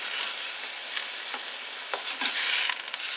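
Vegetables and garlic frying in a pan, with a soft continuous sizzle under several scraping stir strokes that grow busier toward the end, close and fairly quiet, with no talking.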